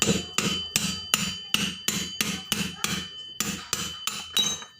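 A hammer strikes a Honda Beat FI CVT part in a steady series of about twelve sharp, close metallic blows, roughly two and a half per second, with ringing overtones and no talking.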